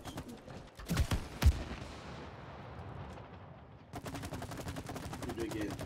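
Gunfire while shooting targets in the video game It Takes Two: two loud, sharp blasts followed by a dense stretch of rapid repeated shots, with an energetic voice calling out over the action.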